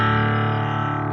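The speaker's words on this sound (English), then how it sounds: "There's too much distortion for this to be useful for rhythm guitar" A cigar box guitar played through heavy distortion sustains one loud, buzzing chord that rings steadily and ends abruptly.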